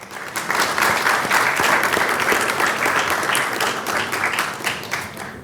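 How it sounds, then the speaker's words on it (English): Loud, sustained applause from a crowd at a business and investment forum, steady clapping filling the whole stretch without any talk over it. "Let's give him a round of applause"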